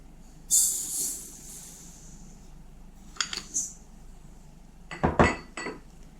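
Yeast being rubbed with sugar in a bowl for Easter paska dough, heard as clinks and scraping of a utensil against the bowl: a bright clatter near the start, a brief scrape midway, then a cluster of sharper knocks toward the end.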